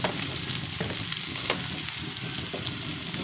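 Freshwater clams sizzle and fry in a hot pan, a steady close crackling hiss with occasional stirring scrapes and pops throughout.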